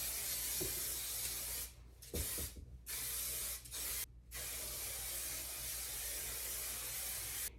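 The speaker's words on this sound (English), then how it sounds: "I'm gonna take my Aerogel, I'm gonna spray it everywhere." Amika Aerogel is sprayed over curly hair from an aerosol can in several hissing bursts, the longest running for several seconds, close and clear with brief pauses between sprays.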